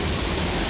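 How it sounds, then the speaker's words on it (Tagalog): Ingleton Falls in North Yorkshire pours down over rocks, making a steady, loud broadband rush of falling water with no break and no voices. "Bye-bye waterfalls."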